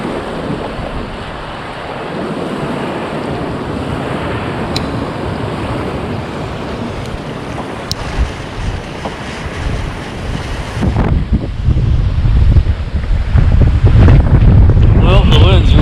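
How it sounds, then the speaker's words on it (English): Strong wind gusts near fifty miles an hour roar across the microphone in a continuous, loud buffeting rush outdoors, growing heavier and more turbulent toward the end. "the wind's really picking up now"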